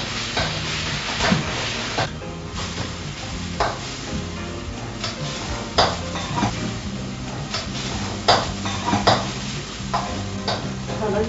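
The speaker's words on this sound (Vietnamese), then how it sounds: "Chảo nóng cho vào 2 muỗng cà phê tỏi bầm. Và sả chúng ta bầm nhuyễn ra." Minced garlic and lemongrass sizzle in a hot pan under steady stirring, with sharp scrapes and clatters at intervals over a dense frying hiss, a soft musical tone running underneath.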